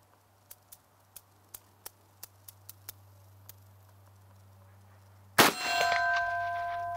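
An M1 Carbine fires on a shooting range. A few faint ticks come first, then one sharp, loud report near the end, followed by a ringing metallic tail.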